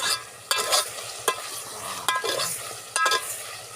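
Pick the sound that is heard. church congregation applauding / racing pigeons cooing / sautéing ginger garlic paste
sautéing ginger garlic paste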